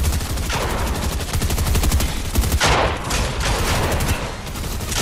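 Video game gunfire on a PS5 in a console cup match, a loud continuous barrage of overlapping automatic shots with a few heavier bursts.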